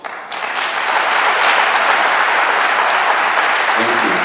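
Audience applause at a book launch, a dense, steady wash of clapping that swells in after a brief start and holds loud and even throughout.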